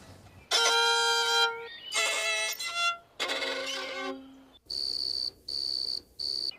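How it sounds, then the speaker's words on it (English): Grasshopper stridulation made by rubbing a leg against a wing: three long raspy bursts of chirping, then three short high buzzing pulses, loud and close with silent gaps between. "A grasshopper makes sound by rubbing its leg against a wing"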